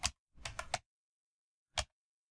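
A few quick computer keyboard keystrokes: a single tap, a short cluster of three clicks, then one more tap after a pause, crisp and close in a quiet room.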